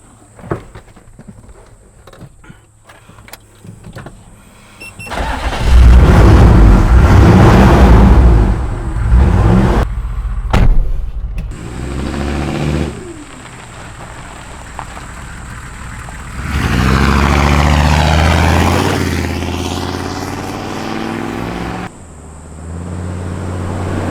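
A Toyota Land Cruiser fitted with a Detroit 6.2L V8 launches hard up a road, the V8 roaring in long loud surges of acceleration, easing off between pulls, with quieter idling and mechanical clatter at the start.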